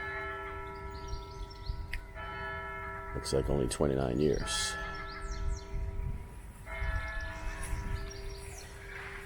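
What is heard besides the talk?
church bell ringing in Leith churchyard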